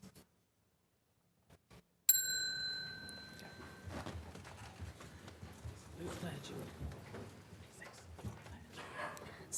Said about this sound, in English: then when I ring the bell